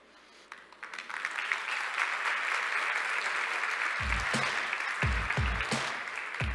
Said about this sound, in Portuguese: Não dá para finalizar um painel sem palmas.